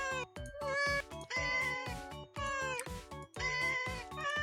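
Cat meowing while being petted in the video game Cat Snap, four loud, close, drawn-out meows in steady succession with short gaps, clear and tonal with no talking.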